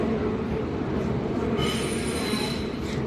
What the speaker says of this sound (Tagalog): Ito, nasa tren kami.